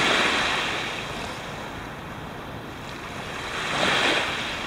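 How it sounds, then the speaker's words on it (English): Ocean surf rolls and breaks steadily on a beach at Sleeping Giant Provincial Park, a loud continuous wash with a swell building near the end, mixed with wind buffeting the microphone and no talk. "good waves out there, I'll tell you"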